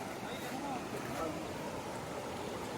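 River water rushing steadily at a deep crossing point, a continuous broadband wash with no break, loud and close throughout.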